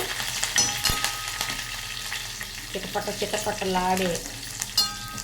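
Crackling sputter of curry leaves frying in hot oil, with occasional stirring clinks; no talking.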